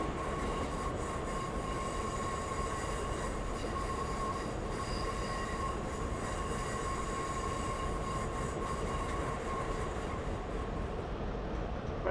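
High Speed Train (HST) in the Train Simulator game running steadily, with a continuous rumbling rail roar, a thin sustained flange squeal riding over it, and faint wheel clatter, with no talking.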